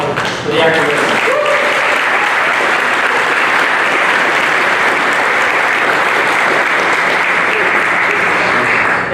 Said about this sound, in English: So how about a round of applause for the Akron residents?